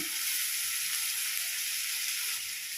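Onion paste and a little water go into a hot pan with cinnamon for egg korma, producing a loud, continuous hissing sizzle that holds steady throughout, close up and with no voices.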